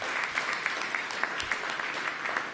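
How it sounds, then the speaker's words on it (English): A crowd applauding first responders at a 9/11 ceremony in Washington, DC, dense clapping from many hands that holds an even level throughout without any talking. "So a round of applause to all the men and women here."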